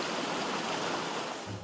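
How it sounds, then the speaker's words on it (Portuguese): Water of the Cachoeira Rica river near Chapada dos Guimarães rushes in a steady, dense broadband roar, close and continuous with no voices. "O som é das águas do rio Cachoeira Rica, a 30 quilômetros do centro de Chapada dos Guimarães."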